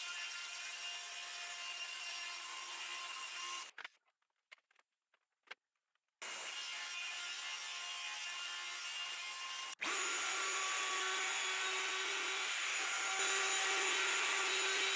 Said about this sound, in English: Now I'll cut 3/8 inch square channels in the front edges of the piece